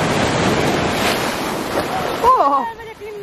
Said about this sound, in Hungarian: Jön a hullám!